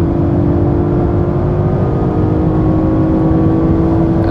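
An Audi RS5 Coupé accelerates hard on the Autobahn, heard from inside the cabin as a loud, steady engine drone with road and wind rumble, continuous and without speech.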